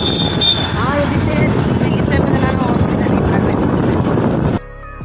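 A ferry vessel's engine drones loud and steady with a rushing, throbbing rumble and mixed background voices, then cuts off abruptly near the end.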